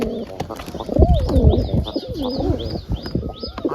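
Pigeons coo repeatedly in low, rolling calls close by, with small birds chirping faintly in the background.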